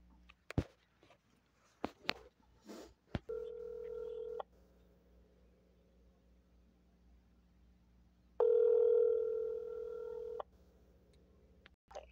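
A telephone call to the One Safe Place organization: a few sharp keypad dialing tones, then a steady ringback tone sounds twice with a long silent gap between, and nobody answers.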